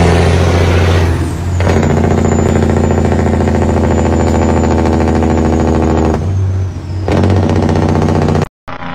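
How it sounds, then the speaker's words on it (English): Truck Jake brake (engine brake) firing close by, a loud rapid staccato engine rattle that runs for several seconds, cuts out, returns, then stops abruptly with an air brake hiss. "Let's hear that Jake brake."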